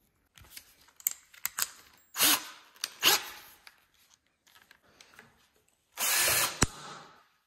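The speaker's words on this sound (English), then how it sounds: "take this random piece of scrap here and drill a couple holes in it." A power drill whirs in short bursts, drilling holes in a scrap piece of wood with a few loud runs and scattered clicks and knocks of handling between them.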